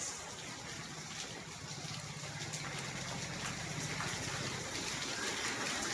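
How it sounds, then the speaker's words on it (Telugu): Heavy pounding rain comes down in Saidabad, Hyderabad, with water gushing and rushing nearby, a constant dense roar holding steady from start to finish, with no voices. "దంచి కొట్టిన వాన"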